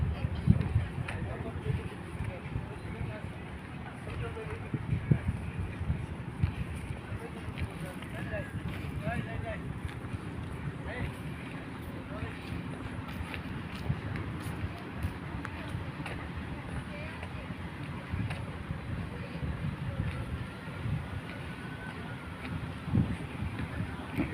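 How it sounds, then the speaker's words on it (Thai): A cool breeze blows through a riverside garden by the water, a steady, soft, rustling wind that buffets the microphone continuously and stays fairly faint throughout. "ลมเย็นสบายครับผม"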